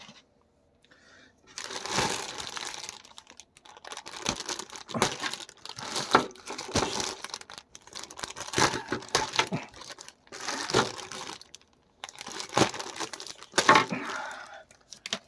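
Plastic packaging around Match Makers figurines of Goku and Uub is opened with a run of close crinkling and crackling bursts, separated by short pauses.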